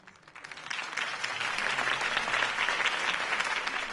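A crowd in Batman: The Telltale Series claps and cheers after a campaign speech, the applause swelling quickly and holding steady as a dense, continuous roar of hands.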